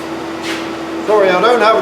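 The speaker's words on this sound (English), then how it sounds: "It's a phase converter that I use to convert all the single phase to 3 phase for these machines." A rotary phase converter in a workshop, converting single-phase power to three-phase for the machines, gives a steady electrical hum. A person starts talking over it partway through.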